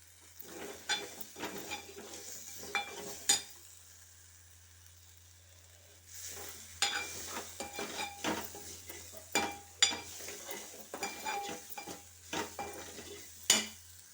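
Biryani gravy is stirred in a pan, with repeated spoon scrapes and clinks against the metal and a low sizzle beneath, pausing briefly midway before the stirring resumes.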